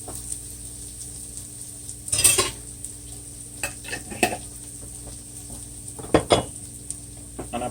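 Garlic in a tablespoon and a half of coconut oil sizzling quietly in a pot, with a low steady hiss broken by a few sharp scrapes and clinks of a utensil stirring against the metal.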